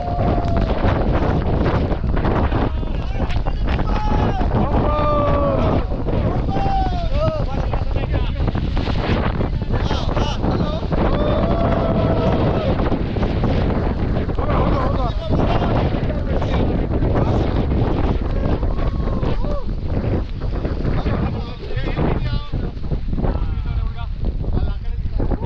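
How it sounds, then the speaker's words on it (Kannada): Strong wind buffets the microphone on a mountain trek in heavy rain, a loud continuous roar that swells and gusts, with voices talking faintly through it. "ಸೂಪರ್ ಗಾಳಿ."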